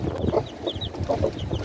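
A broody hen clucking close by in short, repeated low clucks, with faint high peeps from her chicks mixed in.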